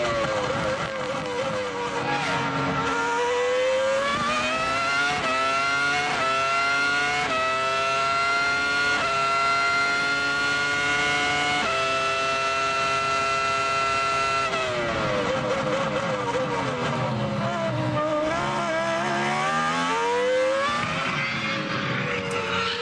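Onboard Formula 1 race car engine at the 2000 Austrian Grand Prix screams close and loud, rising through gears in repeated sweeps, dropping for a corner, then climbing again.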